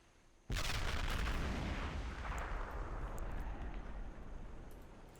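A 76mm gun fires in a war video game: one sudden, loud, close blast with a long rumbling roar that slowly fades over several seconds.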